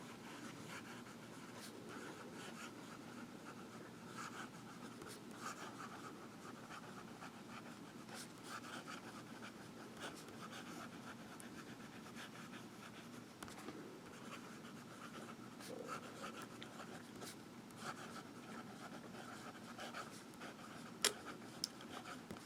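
A Visconti Homo Sapiens fountain pen with a fine nib writes on paper with faint, continuous scratching and small ticks, close up and steady, with no voices.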